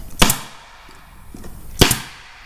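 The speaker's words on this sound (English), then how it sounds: "Fire in some staples." Two loud, sharp staple gun shots, spaced about a second and a half apart, as staples are driven into Sea-Doo Speedster boat seat upholstery, close by and otherwise quiet.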